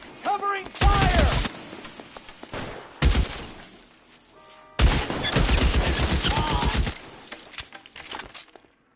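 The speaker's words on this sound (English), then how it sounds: "Covering fire!" Bursts of covering gunfire in the video game L.A. Noire, several loud rapid volleys separated by short gaps, with shouted voices between them.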